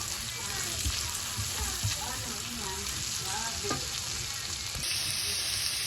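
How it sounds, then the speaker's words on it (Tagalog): Butter melts and sizzles in a reused frying pan, a steady close hiss with occasional stirring scrapes, while a faint background tone carries on throughout. "Tunawin ko lang po itong butter."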